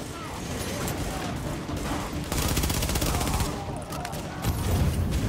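An MP7 submachine gun fires in The Division, with loud, dense bursts of rapid shots and a sharper, heavier stretch midway through, over game sound with no talk.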